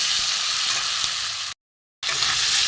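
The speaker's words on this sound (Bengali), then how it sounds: "একটু ভালো করে কষিয়ে নেব।" Hilsa fish and spices sautéed in a pan, a loud, close, continuous sizzle that cuts to silence for about half a second and then resumes just as strongly.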